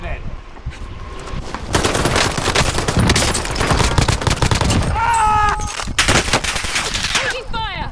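Gunfire rattles in Call of Duty: Modern Warfare: rapid automatic bursts and single shots crack close and loud, nearly continuous for the whole stretch, with brief game radio chatter mixed in.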